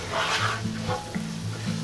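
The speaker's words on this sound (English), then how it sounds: "We're gonna let it simmer a little bit." Taco meat sauce simmers and sizzles in a pan, a soft continuous bubbling hiss with light stirring scrapes, close and fairly quiet.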